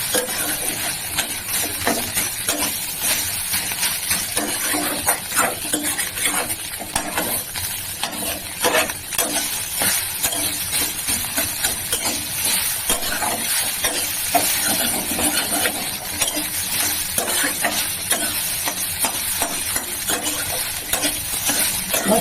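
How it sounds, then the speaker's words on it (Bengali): Vegetables such as capsicum, carrot and cauliflower stir-fried until browned for egg fried rice, a loud continuous sizzle with scraping spatula strokes throughout, no voices. "সুন্দর করে কিন্তু ব্রাউন করে ভেজে দিচ্ছি বন্ধুরা।"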